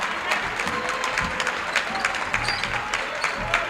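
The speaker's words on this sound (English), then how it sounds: "Both benches giving their team an applaud." Steady applause from both benches at a high school boys' basketball sub-state semifinal, a continuous patter of clapping in a gym with a faint crowd behind it.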